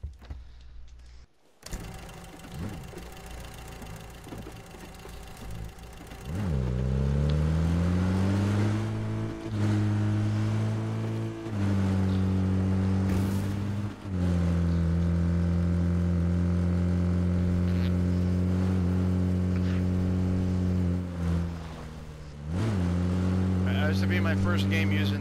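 A car engine in the video game PUBG drones steadily while driving, accelerating with rising pitch and dipping between gear shifts, loud and continuous under people chatting.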